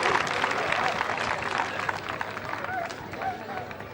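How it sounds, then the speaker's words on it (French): Spectators at a four-star horse jumping event applaud a rider, steady clapping with crowd noise from a distance while an announcer keeps talking over it. "vous pouvez l'applaudir"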